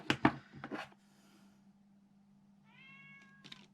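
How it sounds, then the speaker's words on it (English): A cat meows a few times close by, with short loud cries at the start and a drawn-out, rising meow near the end over a low hum. "can you hear my cat?"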